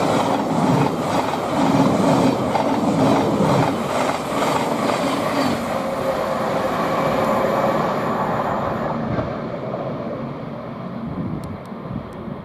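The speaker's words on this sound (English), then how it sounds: "we've got 700 heading from Peterborough to Horsham" A Class 700 passenger train running from Peterborough to Horsham rushes past at speed near Potters Bar on the East Coast Main Line, a loud sustained roar with rhythmic wheel clatter that thins out toward the end.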